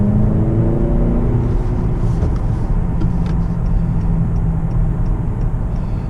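A 2018 Honda Accord Sport with a 2.0-liter turbo engine and six-speed manual gearbox accelerates, its engine drone climbing steadily and loud from inside the cabin.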